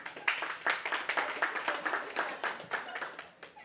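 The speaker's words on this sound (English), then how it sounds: "A big clap for them, please." An audience at a book discussion event clapping for the book's authors, a short round of scattered, fairly quiet hand claps with uneven rhythm that tapers off.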